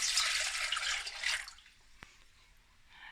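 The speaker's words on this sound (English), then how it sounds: "Just put 1 liter of water in the pot." About a liter of filtered water poured into a cooking pot for wonton soup: a steady, close, splashing rush that lasts about a second and a half, then stops, followed by one faint clink.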